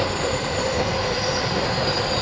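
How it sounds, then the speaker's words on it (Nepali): A train rolls into a station in steady, loud rumbling noise, with wheels grinding and hissing continuously throughout and no pauses or voices. "र ट्रेन पनि आयो"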